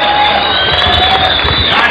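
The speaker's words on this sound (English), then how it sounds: "The crowd's too noisy." Noisy arena crowd at the 2012 Boulder Climbing World Cup women's finals in Vienna, a dense roar of cheering and shouting, loud and continuous for the brief moment.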